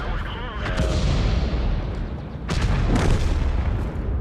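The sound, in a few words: artillery shells incoming in a video game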